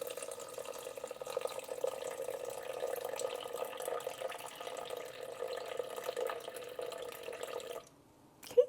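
Warm room-temperature water, 300 grams, pours steadily into a mixing bowl for sourdough sandwich bread: a faint, even trickle runs for several seconds, then cuts off abruptly.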